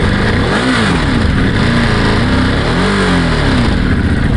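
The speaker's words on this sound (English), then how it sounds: "Wow, that is a gorgeous engine sound." Loud, close motorcycle engine revving: a throaty idle swelling into a couple of rising and falling throttle blips.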